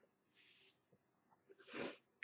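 A sharp sneeze, preceded by a quick breathy inhale, close and fairly quiet, with no talking.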